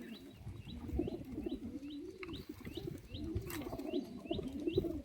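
Pigeons in a loft cooing in repeated rising-and-falling throaty calls, several birds overlapping in a steady rhythm, with light chirps and a few soft flutters in the background.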